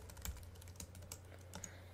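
Someone types on a computer keyboard while writing Bootstrap 3 web page code, a quick, fairly soft run of separate key clicks in an irregular rhythm, heard alone.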